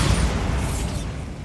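A Bombarda spell detonates in Hogwarts Legacy, a dense booming explosion with a rumbling low end that holds steady for about a second and a half, then thins slightly.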